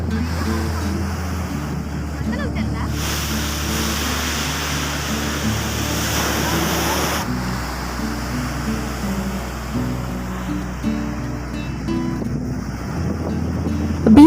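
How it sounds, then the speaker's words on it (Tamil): Rough, stormy sea surf crashes onto a beach in a continuous loud roar with heavy wind buffeting the microphone, surges swelling and easing throughout. "பாருங்கள் எந்த அளவுக்கு அலை அடிச்சிட்டு இருக்குது"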